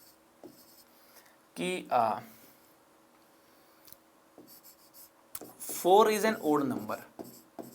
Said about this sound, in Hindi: यहां पे देखिए एक स्टेटमेंट लिख रहा हूं मैं